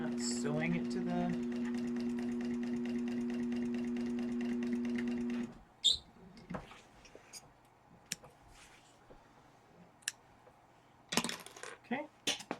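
Sewing machine stitching a zipper onto a candy bag, running steadily with a strong rhythmic hum for about five seconds, then stopping, followed by quiet clicks and handling noises of fabric and tools.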